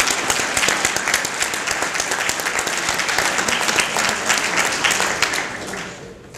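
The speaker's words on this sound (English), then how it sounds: "Let's give these individuals another round of applause." An audience gives a round of applause at a 2013 employee service awards ceremony, dense continuous clapping from a crowd that starts loud and fades out near the end.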